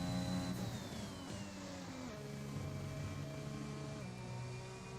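An F1 race car in the F1 2021 video game brakes heavily, its engine whine dropping in pitch through several downshifts as it slows, sustained and moderately loud with no voices.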